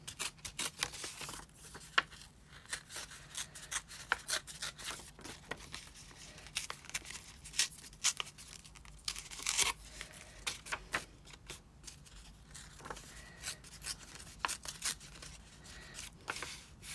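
Paper torn by hand for a craft challenge makes a long run of close, dry ripping and crinkling, irregular bursts of tearing and rustling with brief pauses, and no talking.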